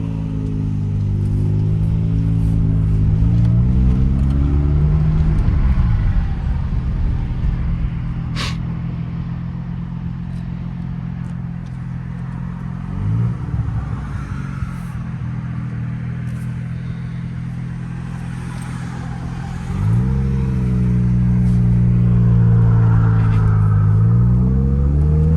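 Second-generation FC Mazda RX-7 rotary engine heard from inside the car while driving around the block: loud, steady engine drone with rising revs through the gears, easing off mid-drive and building again near the end.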